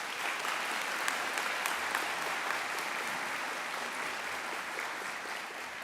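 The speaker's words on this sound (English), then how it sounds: "please join me in another round of applause for all these wonderful future nurses." Steady, dense applause from a large crowd at a nursing pinning ceremony honoring future nurses, sustained and even throughout with no break.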